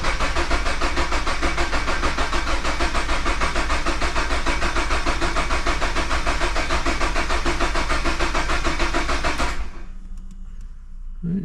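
Toyota GR86 with a Harrop install cranking in clear flood mode with clutch and throttle held down, a loud steady starter whir close by for about nine and a half seconds that then cuts out abruptly to near silence.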